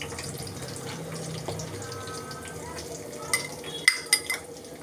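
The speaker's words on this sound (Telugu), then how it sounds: "ఇప్పుడు ఉల్లిగడ్డ వేగిందండి." Onions frying and being stirred in a pan for a mushroom masala curry, a steady low sizzle with soft scraping, then a few sharper clinks and knocks near the end.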